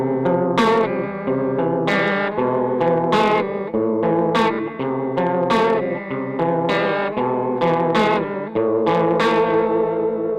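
Electric guitar played through an old Behringer chorus pedal with the knobs turned to 3 o'clock, strummed chords with a lush, swirling modulation, steady and loud, with rhythmic pick attacks throughout and no talking.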